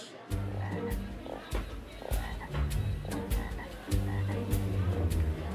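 Frogs croak steadily in a small pond tank, a dense chorus of low, pulsing calls with repeated rhythmic bursts, close and fairly loud throughout.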